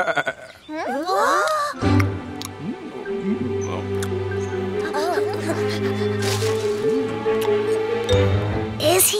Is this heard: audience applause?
no